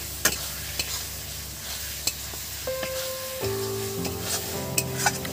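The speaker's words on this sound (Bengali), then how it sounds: "এটা বেশ কিছুক্ষণ একটু মশলার সঙ্গে চর্বিটা ভালো করে কষে নেবো" Mutton fat frying with spices in a pan gives a continuous close sizzle, with occasional sharp spoon taps against the pan and a low steady tonal hum rising midway through; no one speaks.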